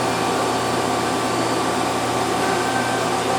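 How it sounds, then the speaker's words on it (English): Chip conveyor on a Mazak QT Nexus 300 CNC lathe running with a steady, dense mechanical whir and broadband hum, continuous and fairly loud for the whole stretch with no talking. "Chip conveyor."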